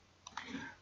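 One quick, faint click from a computer mouse, followed by a second soft click, close by, with quiet room noise around them.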